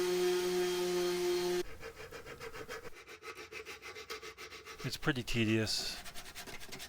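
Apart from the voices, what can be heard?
sanding a router-carved wooden Grinch decoration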